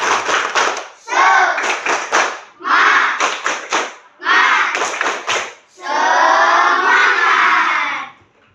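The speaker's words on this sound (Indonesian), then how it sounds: "ayo kita tepuk semangat" Schoolchildren in a classroom perform a rhythmic clapping chant before a coding lesson, with bursts of patterned claps alternating with loud shouted group chanting in several phrases, close and energetic.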